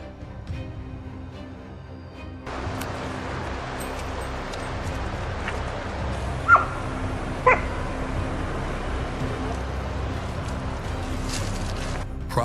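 Hunting hounds out on a wild boar hunt give off scattered yips, whimpers and barks at a middle distance. Two sharper, louder yelps stand out among the ongoing whining over a steady outdoor background.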